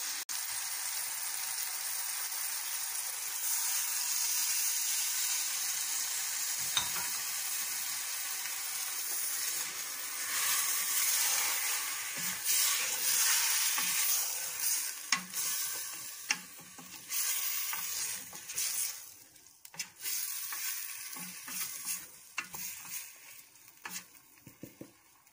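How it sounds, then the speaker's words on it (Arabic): Chicken for Moroccan rfissa, with oil and half a glass of water in a pot, bubbles and sizzles steadily at close range, a continuous hiss with small crackles and occasional utensil knocks, no talking. "انا خليته يغلي بحال هكا"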